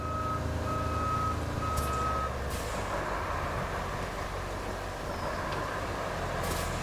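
A crane truck reversing in Roadcraft, a steady evenly spaced beep repeating over a continuous low engine rumble, with a brief hiss of air brakes.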